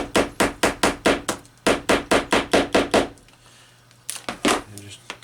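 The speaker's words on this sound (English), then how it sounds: "I'll just take my hammer" A hammer taps the sides of an RCA phonograph part in a rapid, even run of about a dozen sharp blows. After a short pause, a few more strikes follow close to the microphone.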